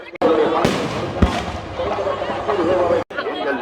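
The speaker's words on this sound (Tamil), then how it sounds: "திருவிழா இப்படி தான் இருக்கணும், கலகலன்னு சொல்லி நிறைய பட்டாசுகள்லாம் போட்டு" Firecrackers and fireworks go off at a temple festival procession in Chunnakam, a loud, dense crackle of bursts with one sharp bang, under crowd noise and people talking.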